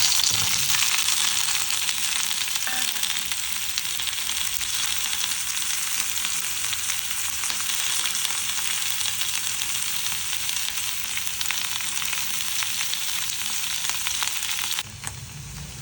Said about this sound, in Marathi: लसूण झालं, आता मी कांदा आणि मिरच्या टाकते.